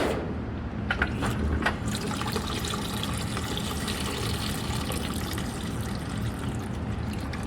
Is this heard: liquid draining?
yes